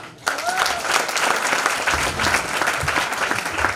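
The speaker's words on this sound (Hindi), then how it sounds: "इनके लिए जोरदार तालियां।" A burst of enthusiastic applause breaks out from the audience at a two-day training workshop in Chhindwara, steady clapping continuing at full strength with a few voices calling out over it.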